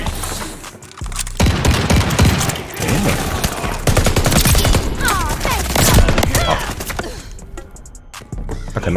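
Sustained automatic machine-gun fire from a mounted turret in the shooter game Call of Duty: Vanguard, loud rapid bursts rattling almost nonstop amid battlefield noise.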